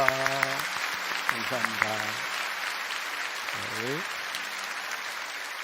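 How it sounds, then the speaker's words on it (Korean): A church congregation claps after a sung worship performance by a team of young Africans, with steady applause running under a man's brief spoken thanks. "이렇게 박수하겠습니다"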